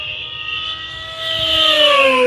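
An E-flite V1200 V2 1.2 m electric model jet at full throttle gives a loud, steady high-pitched scream that keeps climbing as it accelerates on its maiden flight, with no voices.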